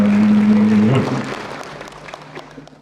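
Teachers at a motivational public-speaking seminar applaud, the clapping fairly loud at first and beside a brief steady hum, then thinning and fading away.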